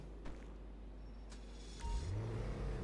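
A Emperor Vectre car in GTA V Online, heard faintly at first with brief clicks, then its engine catches and rumbles low and steady near the end, fairly quiet overall.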